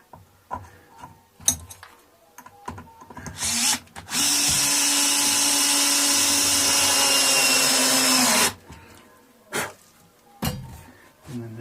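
A power drill driving a screw into a Squier Affinity Telecaster guitar whirs steadily for about four seconds, loud and close, bracketed by clicks, knocks and handling noises before and after.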